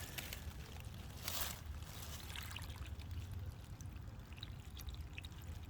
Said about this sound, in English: That's just running right through our French drain.